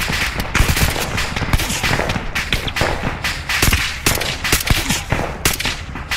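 Arma 3 gunfire rings out in a night combat firefight, with dense, loud, rapid bursts of automatic rifle and machine-gun shots cracking nonstop, some close and some more distant, with no voices over them.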